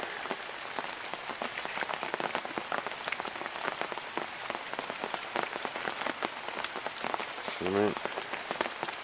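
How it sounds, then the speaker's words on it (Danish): Rain falling on a camp, a dense patter of drops striking a surface with scattered sharper taps, steady and close, with a brief low murmur near the end. "Bare sidde og lytte til regnen."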